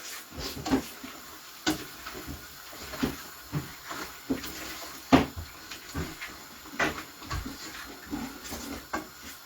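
Cupboard or room doors in a home are opened and shut over and over, giving a string of sharp knocks and clatters spaced a second or so apart against faint background hiss.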